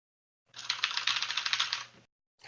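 Fast, steady clatter of typing on a computer keyboard, close and fairly loud, running for about a second and a half with no talking.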